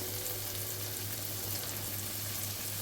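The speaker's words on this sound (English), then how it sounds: "Now I'm just gonna add some pasta sauce." Store-bought pasta sauce hits meatballs in a hot pan, producing a steady, loud sizzle that fills the whole stretch without a break and with no voices.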